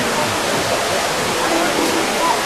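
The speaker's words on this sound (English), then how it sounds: "You can see the waterfall." A waterfall inside the indoor rainforest biome at the Eden Project gives a steady, loud broadband rush of falling water that continues without a break, with a voice faintly present beneath it.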